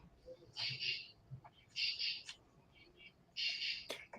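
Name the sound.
recording of a loud unidentified bird calling at night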